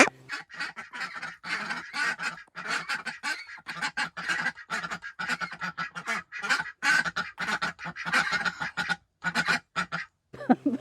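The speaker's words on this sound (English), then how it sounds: "If they are off on their own, they will quack and quack and quack." Domestic ducks kept on a homestead quack loudly and insistently when separated from the flock, a close, continuous run of harsh quacks with only brief pauses.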